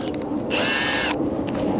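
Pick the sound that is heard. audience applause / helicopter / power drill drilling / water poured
power drill drilling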